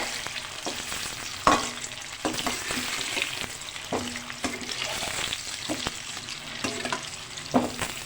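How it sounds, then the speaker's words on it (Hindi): Boiled potatoes fry in cooking oil in a kadai, a continuous close sizzle broken by repeated scraping and knocking as a spoon stirs them around the pan. "बॉयल किए हुए आलू जो हैं सबसे पहले मैं इसमें डालकर आलू को फ्राई करूँगी"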